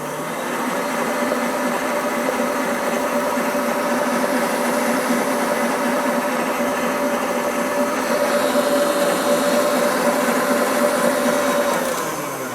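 An electric mixer works flour into the wet ingredients of king cake dough, its motor holding a continuous steady whine and hum, close and even throughout with no voices.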